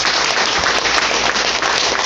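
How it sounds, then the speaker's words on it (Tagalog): Audience applause fills a seminar hall during a new-distributor orientation talk, a dense, steady wash of many hands clapping at full loudness for about two seconds with no voices over it. "Palakpak ulit."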